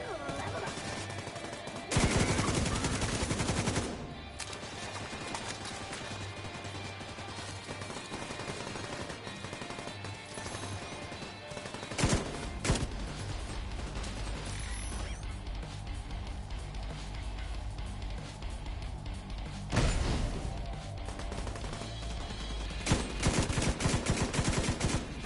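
Gunfire in the video game Division 2: repeated bursts of automatic weapon fire and loud shots in several clusters over background game noise, with occasional talk.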